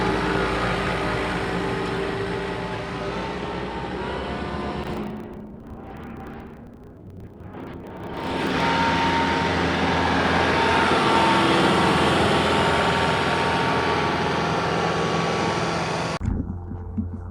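John Deere 4052R compact tractor driving, its engine a steady low rumble with broad noise that fades out briefly in the middle, then returns and cuts off abruptly near the end.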